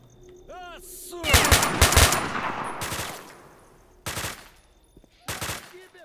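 Enemy gunfire in the video game STALKER: Shadow of Chernobyl: a dense burst of rapid automatic shots followed by two separate short bursts, loud and close, with a faint voice briefly underneath.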